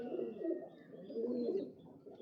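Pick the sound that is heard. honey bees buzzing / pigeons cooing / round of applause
pigeons cooing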